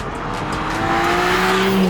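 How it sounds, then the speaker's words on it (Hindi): A 2023 BMW M2 with a 460 hp engine and manual gearbox, its exhaust note rising steadily as it accelerates, loud and close with a rasping drone climbing in pitch. "इस गाड़ी का जो एग्जॉस्ट नोट है वो काफ़ी बढ़िया है"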